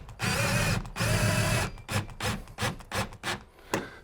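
A power driver runs a self-tapping screw into a tailgate curtain rail on a VW T5 or T6 campervan, with two long steady whirring bursts followed by several short pulsing bursts, close and fairly loud.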